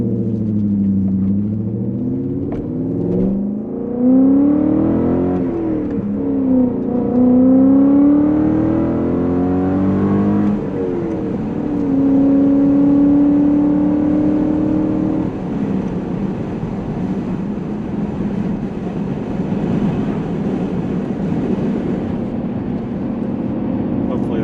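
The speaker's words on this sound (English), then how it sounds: "I do have the exhaust cut out open at the moment just because it's so much fun and sounds so great." A 2003 BMW 540i Touring M Sport with an S62 V8, 6-speed and open exhaust cutout accelerates hard on a highway, engine revving and rising through the gears with a loud, droning exhaust and road rumble.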